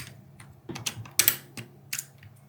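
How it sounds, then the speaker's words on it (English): Keycaps pulled off a hot-swappable gaming keyboard with red switches: a few sharp plastic clicks and clacks at uneven intervals, close and fairly quiet, no speech. "let's pull a couple keys off and get a slightly closer look"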